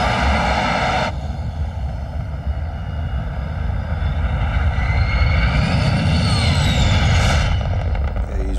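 A spacecraft engine roars as the craft climbs toward 80 miles altitude in an action sci-fi film, a loud sustained drone with rising whining tones that swell toward the end.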